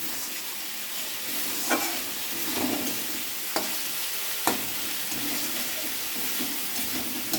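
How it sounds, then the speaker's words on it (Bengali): Spice paste sautéing in a pan for a prawn and potato dish, a loud continuous hissing sizzle broken by a few sharp clacks of a spatula stirring, close and without speech. "এখন মশলাটা কষা হচ্ছে বন্ধুরা।"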